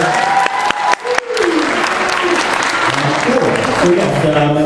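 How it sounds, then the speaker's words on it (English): Applause from the crowd at Otafest 2014, an anime convention Q&A panel, builds into a loud, sustained wash of many hands. A voice speaks briefly over the opening before the clapping swells and carries on alone. "Big round of applause."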